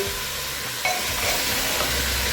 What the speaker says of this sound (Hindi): तो अच्छे से मिक्स कर लेंगे